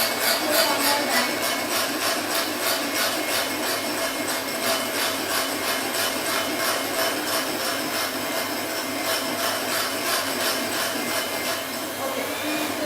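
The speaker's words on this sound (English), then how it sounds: "So we're going to give it a whisk for some more time." A tiramisu mixture is whisked steadily until pale and fluffy, a continuous scratchy rhythmic beating of the whisk against the bowl, moderately loud and close, with no talking.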